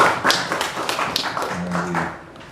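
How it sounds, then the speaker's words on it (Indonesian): Congregation in a church service clapping together, a run of sharp hand-clap taps repeating at a steady pace and fairly close, with faint voices underneath. "Beri tepuk tangan bagi Tuhan Yesus"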